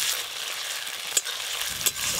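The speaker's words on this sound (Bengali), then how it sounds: "এবার পেঁয়াজ আদা রসুন একসঙ্গে খুব ভালো করে ভাজবো" Onion with ginger garlic paste fries in a pan, giving a soft, steady sizzle with two brief sharp scrapes of a utensil near the end.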